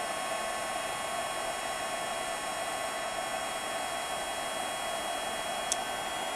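Heat embossing tool blowing hot air steadily over embossing powder on cardstock, a constant close airy whir with no pauses.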